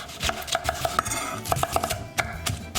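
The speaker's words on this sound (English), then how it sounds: "Start off by chopping up some onion" Knife chopping onion on a cutting board, a series of crisp close taps in quick uneven bursts of three or four strokes separated by short pauses, with no talking.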